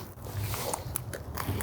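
Crunchy bite into a marshmallow snack up close, with crisp chewing crackles over a soft, steady background.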